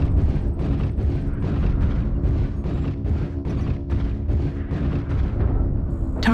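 Artillery explosions in a video game boom in a dense, rolling series, loud and continuous, with rumbling blasts overlapping one another and a brief electronic tone at the very end.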